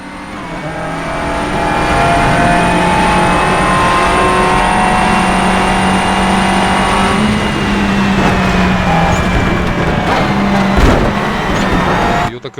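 A 1995 Subaru Impreza rallycross car on a British track revs hard and sustains a loud, high engine whine that climbs and holds, with the gear-driven tone shifting as it races past, alone without talk.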